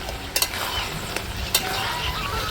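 Spinach curry simmers and reduces in a pan over a village cooking fire, a steady close bubbling sizzle broken by a few sharp clicks of a spoon or pan, with no talking.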